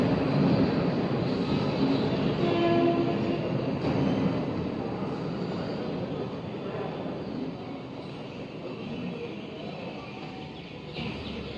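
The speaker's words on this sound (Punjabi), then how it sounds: "ਹੁਣ ਪੰਜਾਬ ਦੇ ਰੇਲ ਟਰੈਕਾਂ ਦੇ ਉੱਤੇ ਰੇਲਾਂ ਦੌੜਨੀਆਂ" Passenger train running on railway tracks in Punjab, a continuous broad rumble that is loudest at first and slowly fades as it moves away, with no voices.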